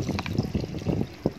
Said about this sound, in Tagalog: Then, nilagyan na natin ng tubig. 3 cups yun.